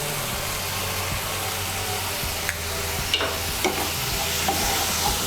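Spice paste fries in oil for a Bengali chana dal tadka and is stirred, giving a steady broadband sizzle with a low hum beneath and a few scattered scraping clicks.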